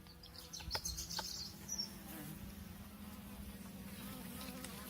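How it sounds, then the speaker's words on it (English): Bees around a hive at feeding time buzz faintly and continuously, with a few louder passes of individual insects near the start, soft and alone without talk. "that bee's already starting to drink it"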